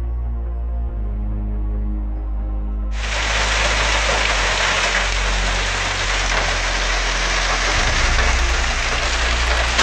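Heavy rain from a vicious storm in Nevada starts abruptly as a loud, dense, steady downpour over a low engine-like rumble that continues beneath it.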